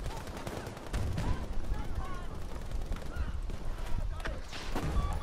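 Gunfire in the game Grand Ops crackles continuously as a dense firefight, with voices talking over the shooting throughout.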